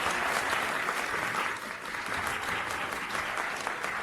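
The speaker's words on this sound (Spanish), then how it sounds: "Aplausos ahora sí." Audience applause at a school ceremony, a broad crowd of hands clapping steadily, slightly distant in a large hall, dipping briefly midway then continuing evenly.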